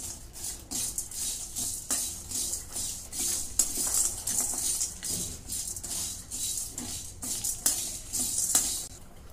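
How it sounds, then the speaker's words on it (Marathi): Whole spices, including saffron, green cardamom and black pepper, dry-roast in a pan for shahi garam masala, giving a steady close rattle and scrape with frequent small ticks and taps as they are stirred. "आता आधी हे मोठे मोठे मसाले भाजून घेते"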